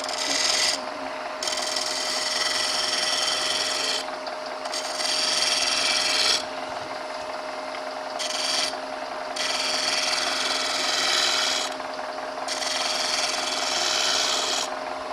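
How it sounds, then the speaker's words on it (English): A woodturning gouge rasps against a spinning wooden hollow form in repeated scraping passes of a second or two each. A steady lathe hum runs underneath, the work is close, and no one speaks. "I can use the side of my gouge really quickly to blend that, just like that"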